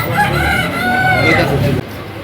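A rooster crows with a drawn-out, rising and falling call over clucking hens, then the sound cuts off abruptly near the end.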